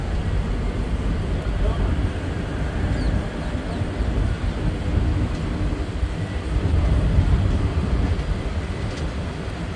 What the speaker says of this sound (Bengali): এইটাতে ট্রেন ছাড়লো আমাদের